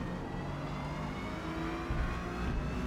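Acura NSX race car in Forza Motorsport on the Grand Oak circuit, its engine holding a steady, moderately loud drone at speed down a straight with a faint whir and slight rise in pitch; no talking.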